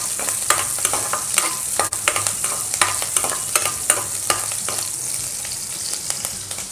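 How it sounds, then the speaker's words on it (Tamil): Five green chillies fry and get stirred in hot oil in a pan, a steady close sizzle broken by repeated scraping strokes of a spoon, with no talk over it. "மிளகாய் நல்லா வதக்கிட்டு"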